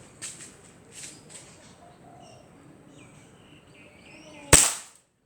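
A competition gas-powered airsoft pistol, classic model, fires once toward the end as a single sharp, loud crack into a chronograph power test, after a few faint clicks and soft background noises.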